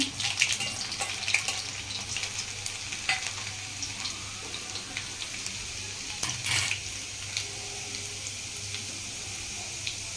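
Steady sizzling of chopped garlic frying in hot oil, continuous and close, with a few brief clinks and scrapes from stirring.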